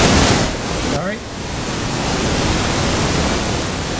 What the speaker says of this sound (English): we got to check that with pink noise